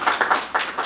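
A small group at a Cherokee Nation budget hearing claps briefly, a few scattered bursts of hand claps in under a second, moderately close.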